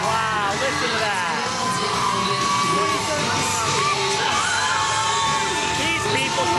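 Loud crowd at a live wrestling event cheering, whooping and yelling continuously, a dense roar of many voices with scattered shouts that holds steady throughout.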